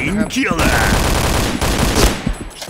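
Gunfire in the online shooter Point Blank, a dense, loud, continuous rattle of rapid automatic shots running almost without a break, with a short voice-like sound near the start.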